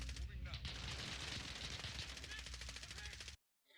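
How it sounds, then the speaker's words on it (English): Rapid bursts of gunfire in the shooter game Warzone rattle continuously, loud and dense, with a voice speaking underneath, before cutting off abruptly. "I thought I heard gunshots behind you"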